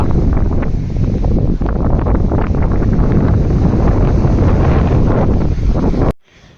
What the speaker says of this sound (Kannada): ಗಾಳಿ ಹೆಂಗ್ ಬೀಸ್ತಾ ಇತ್ತು ಗೊತ್ತಾ?